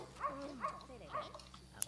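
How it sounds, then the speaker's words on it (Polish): A dog in The Sims 2 life-simulation game gives three short, whiny yips in quick succession, then a softer whimper, close and clear. "nasz piesio sobie leży w łóżeczku"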